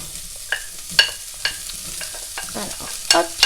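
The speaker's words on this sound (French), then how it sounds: "je vais faire revenir mes oignons" Onions sautéing in olive oil in a cocotte over low heat, a soft sizzle broken by several sharp scrapes and taps of a spoon stirring against the pot.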